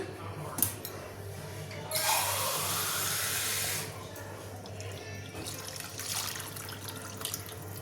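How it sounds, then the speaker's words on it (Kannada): Water is poured into a pot of home-style chicken sambar, a steady rushing splash that lasts about two seconds, set against a low background hum with faint trickling afterward. "ನಾನು ಸ್ವಲ್ಪ ನೀರು ಮಿಕ್ಸ್ ಮಾಡ್ಕೊತಾ ಇದ್ದೀನಿ"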